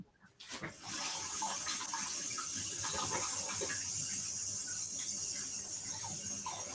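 Kitchen tap turned on to rinse baking items for apple toffee cupcakes, water gushing steadily and close after a brief clatter at the start, with a hissy, continuous flow.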